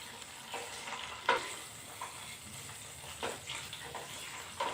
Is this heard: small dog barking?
no